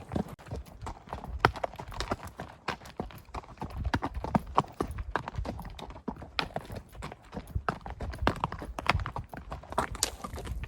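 Horses and mules walking on a backcountry trail in the early morning, a steady, uneven clip-clop of many hooves, close and fairly faint, continuing throughout.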